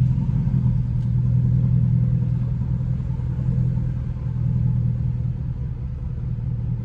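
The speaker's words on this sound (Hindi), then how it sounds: "अब गाड़ी को पीछे कर लें घर के पास, छोड़ो स्टीयरिंग छोड़ दो, मैं गाड़ी पीछे कर लूं।" Car reversing toward a house, a steady low engine rumble close by that holds evenly throughout without revving.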